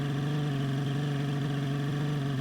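A car engine runs at a steady, even hum with a low rumbling pulse, holding constant and loud, alone without voices.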